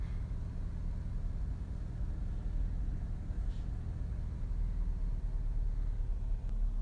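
A 2012-era Honda CR-V 2.0 i-VTEC EX 4x4 with 57,170 miles idles steadily, a low, even engine rumble heard close up and alone, with no clear talking.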